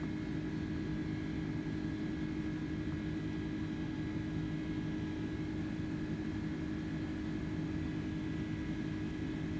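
Airbus A310-300 engines in a Microsoft Flight Simulator flight, a steady low jet drone with constant tonal hum, even and unchanging throughout, fairly quiet with no talk.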